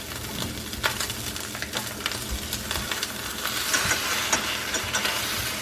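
A ground beef omelet sizzles in a frying pan, a dense, continuous close crackle and hiss with small pops throughout and no talking.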